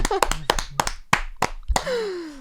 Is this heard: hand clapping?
yes